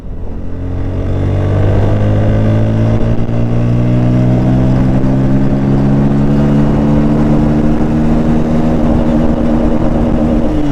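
Bajaj Pulsar N160 motorcycle accelerating hard in third gear, a loud, steady engine note with rising harmonics that climbs in pitch throughout, no speech over it.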